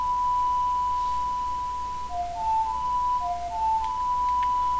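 Saria's Song played on the ocarina in the Zelda game Ocarina of Time: a long steady pure tone, then a short run of clean stepped whistle-like notes over a low hum. The melody is moderately loud with no voices.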